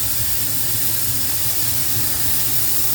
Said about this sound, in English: Watch when I turn on the blower